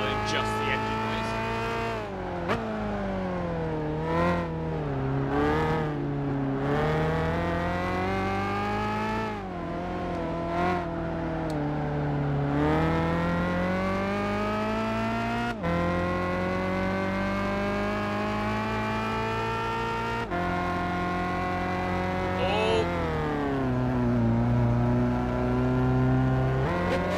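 A continuous, loud racing car engine drone from Gran Turismo 5 revs up and down in pitch, with repeated accelerations and gear-like shifts.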